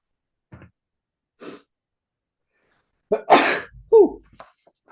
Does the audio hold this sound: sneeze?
yes